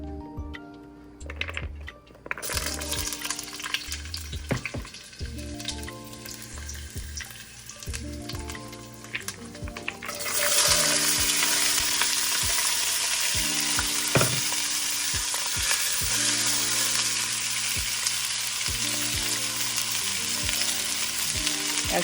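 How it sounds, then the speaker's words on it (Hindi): Carrots and three kinds of bell pepper stir-frying in hot oil, a loud steady sizzle that swells sharply partway through, with scraping and stirring clatter throughout. "तो इन्हें मैं स्टिर फ्राई अभी करती हूँ"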